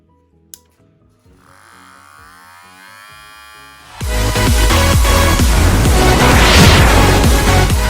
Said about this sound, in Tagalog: I'm going to show you how to repair or modify your hair clipper just like this